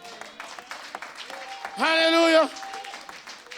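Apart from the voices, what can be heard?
church congregation applauding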